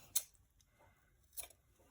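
Scissors are picked up and handled while a headphone organizer is made by hand, giving two sharp, brief metallic clicks about a second apart against quiet surroundings.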